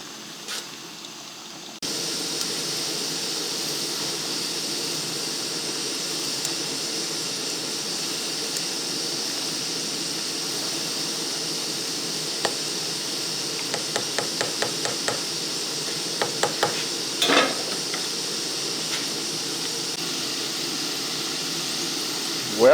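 Potato chips frying in oil in a Base Camp Cook Set pot on a camp stove, a steady loud hiss of bubbling oil with scattered sharp pops and crackles throughout.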